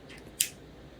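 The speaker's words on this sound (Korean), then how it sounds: "이 실들을 다 가위로 자르고 나면은 끝에 조금씩 끝부분이 남는데요" A single crisp snip of scissors cutting through leftover threads at the end of a knotted bracelet, close and brief against quiet room tone.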